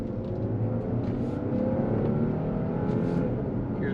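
The supercharged V6 engine of a first-generation Audi Q7 revs up steadily, a smooth rising whir and growl under acceleration, close and continuous throughout.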